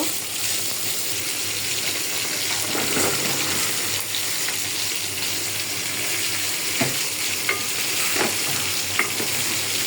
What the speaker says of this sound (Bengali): এদিক দিয়ে মাছ ভাজা হচ্ছে।